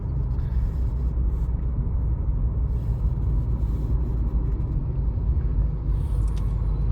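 Steady low engine rumble and drone inside a Škoda car accelerating in fourth gear, even and continuous with road noise, loud and close, no sharp changes.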